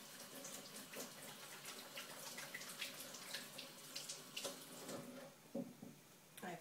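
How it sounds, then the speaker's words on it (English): Hands being washed under a running tap after working with staining polymer clay, a steady close splash of water with rubbing and small bursts of spatter, no talking. "I'm just going to wash my hands because that will be staining my hands."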